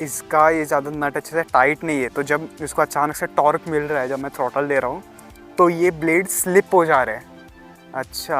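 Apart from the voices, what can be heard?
No everyday noise stands out behind the speech.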